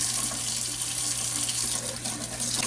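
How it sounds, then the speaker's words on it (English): Tap water runs steadily into a sink while collard greens and kale are rinsed under it, a continuous close splashing wash with no voices. "Let's rinse them first and then we'll put them on in there."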